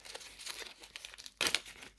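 A wristwatch, a Poedagar 930-GN, is drawn out of a plastic bag with soft crinkling, ending in a louder burst of crisp rustling near the microphone.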